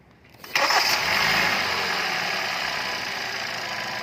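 A car engine cranks and fires at the start of a GDI service with valve cleaner, then settles into a steady, loud idle that hums on without interruption, close by and with no talk.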